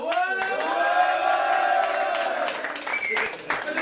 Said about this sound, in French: vous allez pouvoir aussi applaudir vos dirigeants et vos coachs